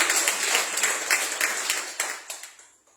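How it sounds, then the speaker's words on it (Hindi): A church congregation claps for Jesus during a sermon, a warm round of applause that swells and then thins to a few scattered claps before fading to silence. "इसलिए ये तालियां बजाना चाहिए यीशु के लिए।"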